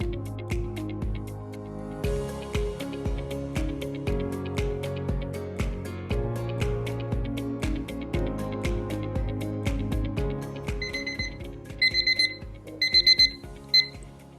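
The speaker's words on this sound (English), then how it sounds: "When your timer goes off," A countdown timer alarm goes off over a steady musical backing, its bright repeated beeps arriving in short clustered bursts near the end, clear and prominent, with no talking.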